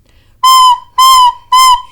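Three short, shrill whistling bursts from a recorder blown without a constant stream of air, each abrupt and squeaky, separated by brief pauses.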